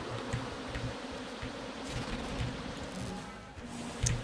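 A soft, steady insect buzz of bees swarms in the video game Enter the Gungeon, faint and continuous with occasional small clicks and hits.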